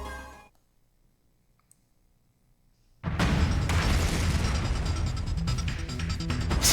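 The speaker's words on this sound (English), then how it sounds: "Another explosion." A loud, sustained explosion in a video game bursts in after about three seconds of near silence, a dense roar that keeps rumbling through to the end.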